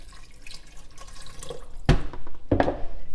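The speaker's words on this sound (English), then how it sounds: "Just give it a good stir and cover it up with water." Water from a tap splashes into a 5.7-litre Instant Pot Duo pressure cooker to cover soup ingredients, two short bursts of pouring close by over quiet background noise, with no talking.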